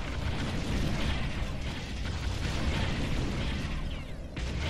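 A power generator blowing up in the strategy game Ground Control, a sustained loud roaring blast with crackling debris that rumbles on for several seconds before tapering off.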